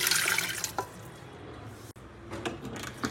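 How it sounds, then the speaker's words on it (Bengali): Water poured from a tap or jug into an electric kettle in a home kitchen, a steady close splashing stream that fades briefly and then resumes, heard alone without talk. "জল দিয়ে দেবো মেপে।"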